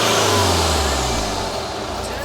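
Close BMW E90 320d diesel engine, just fitted with a new turbo, revving and idling with a deep rumble, the pitch sliding down as it settles; a voice is audible over it.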